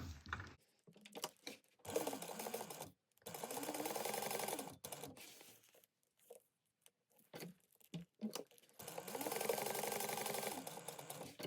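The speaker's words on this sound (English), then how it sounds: "And then of course you can chain stitch these guys together." A sewing machine chain-stitches fabric pieces together in bursts of rapid mechanical whirring, each run stopping and restarting with short quiet pauses between, close and clear with no talking.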